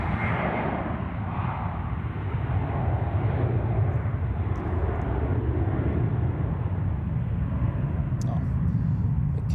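An airplane touching down at Zurich Airport with a heavy, continuous engine and rollout roar, loud and close throughout, with a few faint clicks near the end.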